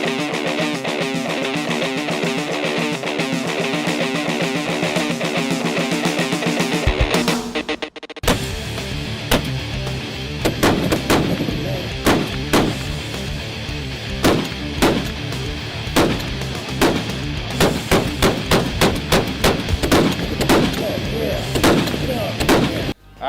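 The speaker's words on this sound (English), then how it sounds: "Well, John, you just got done shooting the 50 over there." A .50 caliber gun fires at an outdoor range: a sustained loud roar for several seconds, a brief gap, then a long run of heavy, close, repeated booming shots.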